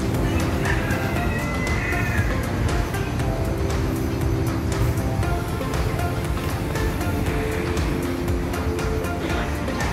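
Chickens cluck and a rooster crows at an outdoor site in Indonesia with a fish pond and birds, heard against a dense, steady background of ambient noise throughout.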